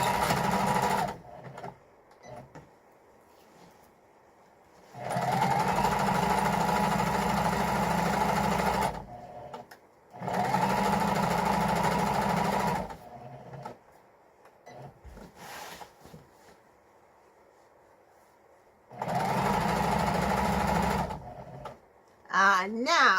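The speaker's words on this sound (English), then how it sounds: "now we are gonna stitch across on the line that we just drew." Sewing machine stitching across a rod pocket curtain along a drawn line, running in several bursts of a few seconds each, steady and close, with brief pauses between runs and a little talk in the gaps.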